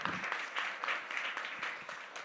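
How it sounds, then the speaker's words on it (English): Conference audience applauding, a rapid continuous patter of many hands clapping at moderate distance, steady for the whole stretch with no talk. "I want to give a really big round of applause to Joan."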